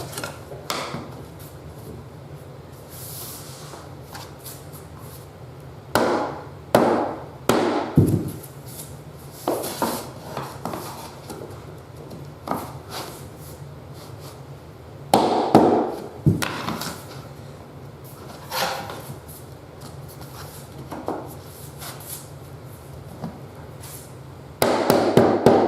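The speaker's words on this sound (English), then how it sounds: "I'm going to try to just hammer it in without having to trim that tongue of the existing piece" Hammer knocking a laminate flooring plank into place beside an existing piece, bursts of sharp close taps and thuds in quick runs separated by quieter pauses.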